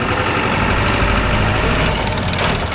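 A Mahindra Arjun Novo 605 DI tractor engine running loud and close, a dense, steady diesel roar with rumbling vibration held throughout, no voices over it.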